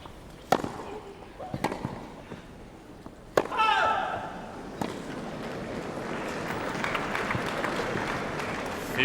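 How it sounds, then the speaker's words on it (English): A Wimbledon tennis crowd lets out a swelling murmur of oohs and ahs after sharp ball strikes, the mass of voices lingering in the background of the court. "might have been influenced by the oohs and ahs of the crowd, who obviously thought it was very close"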